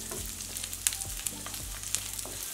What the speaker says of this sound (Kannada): ಹುರಿತಾ ಇದೆ, ಇನ್ನೂ ಪೂರ್ತಿ ಈರುಳ್ಳಿ ಎಲ್ಲ ಕೆಂಪಗಾಗಬೇಕು, ಅಲ್ಲಿವರೆಗೂ ಹುರ್ಕೊಳ್ಳೋಣ